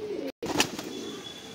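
Punjabi Malwai pigeons give a couple of soft, brief coos close by at low volume, broken by a short dropout.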